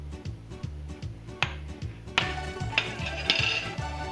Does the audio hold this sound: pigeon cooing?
no